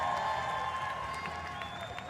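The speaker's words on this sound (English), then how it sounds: "I think the crowd is trying to egg him on to maybe go after the next one" Crowd at the Rogue Invitational 2021 strongman event cheering and applauding as a lifter attempts Thor's Hammer, a steady wash of clapping and shouts from a distance, with some voices mixed in.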